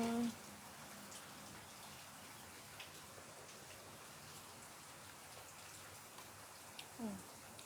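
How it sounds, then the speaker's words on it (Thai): Steady patter of rain falling, a soft continuous hiss with scattered drips, fairly quiet and even throughout. "ฝนตก"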